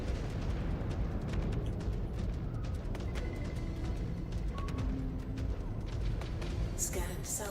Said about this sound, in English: That's a secondary explosion involved on that.